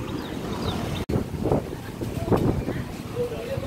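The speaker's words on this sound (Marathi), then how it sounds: "जबरदस्त वारं चाळावलं." Strong wind gusts buffet the microphone at an outdoor weekly market in Banda, Konkan, during rainy weather, a loud rough rumble that briefly cuts out and then surges again, with faint voices underneath.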